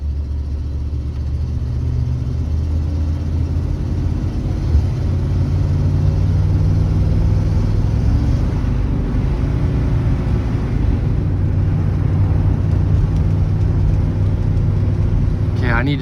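Engine of a 1996-97 GM vehicle with a blown 4L60E automatic transmission running steadily and downshifting, a loud continuous low drone with slight pitch shifts, heard up close throughout with someone talking over it.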